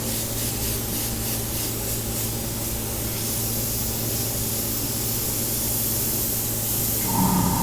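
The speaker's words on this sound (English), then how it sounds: "I need to clean this airbrush out" An airbrush sprays paint onto a resin pour, a continuous close hiss of air and atomized paint running unbroken throughout, shifting slightly in tone near the end.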